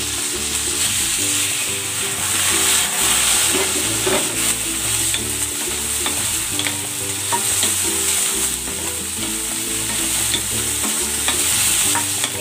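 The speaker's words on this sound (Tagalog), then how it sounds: "Pan fry muna natin itong ating chicken." Chicken pieces pan fry in cooking oil with a loud, steady sizzle, while occasional stirring scrapes and clinks sound close over a constant hiss.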